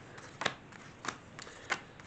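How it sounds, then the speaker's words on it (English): A new tarot deck being riffle-shuffled: quiet, close rustling with four distinct snapping bursts at irregular intervals, no voices. "when I first get a deck, obviously it needs to be shuffled pretty well"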